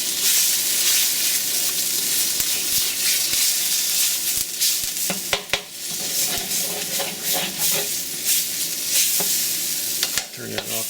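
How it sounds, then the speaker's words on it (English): Tomato paste frying in a pan on an electric burner for lamb stock: a loud, dense sizzle held throughout, broken by sharp scraping stirs toward the end. "We're going to take some tomato paste. Just going to fry this around a little bit."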